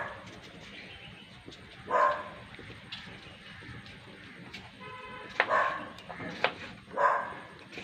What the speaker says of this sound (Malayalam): ആ പട്ടിയാകെ ഇത്തിരി ഉള്ളൂ എന്നിട്ട് സൗണ്ട് നോക്ക്